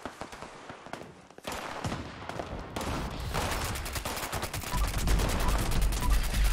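Rapid, dense gunfire in the video game Fallout 76 crackles in sustained bursts that grow louder and heavier toward the end, with deep thumps underneath and brief talk early on.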